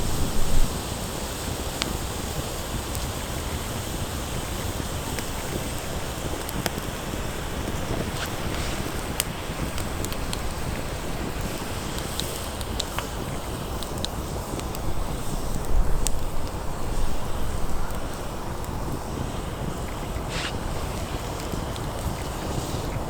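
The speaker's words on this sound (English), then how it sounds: "it's pretty windy" Wind blows through a deep, cold German forest at a campsite, a steady broad rush buffeting the microphone for over twenty seconds, with occasional faint clicks and a slightly stronger gust near the end.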